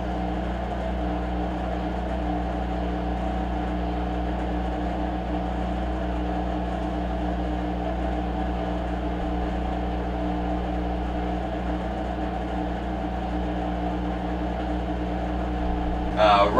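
A Frigidaire washer spins at high speed after draining, giving a loud steady motor hum and whir with a constant tonal drone and no pauses, close by and heard alone.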